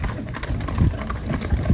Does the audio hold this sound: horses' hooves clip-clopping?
yes